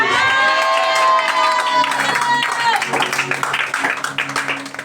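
A church congregation cheering and acclaiming during a French-language service, a loud swell of voices and shouts with clapping that builds then breaks into scattered claps and cries.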